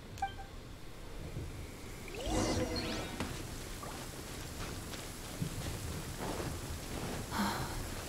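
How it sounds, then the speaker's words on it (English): Steady rain falls over an island setting, a soft, even wash with a few low rumbles and swells in the background and no voices. "It's raining."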